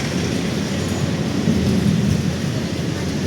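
A light rail train on an elevated LRT line runs past a city street, giving a steady, loud broadband rumble and rush that holds for the whole stretch and swells slightly midway.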